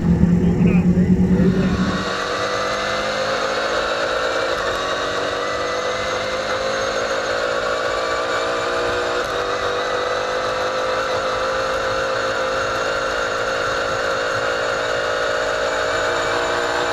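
A piston-powered land speed race car runs down the track with a sustained, loud engine roar, a brief louder burst at the start settling into a steady high-pitched drone that continues throughout.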